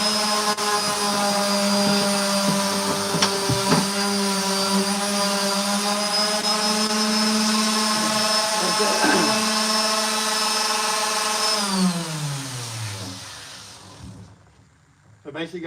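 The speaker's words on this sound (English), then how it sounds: "you literally use the weight of the sander" A power sander whines steadily and loudly across an old red gum table, its tone shifting slightly as it moves, then winding down and stopping near the end.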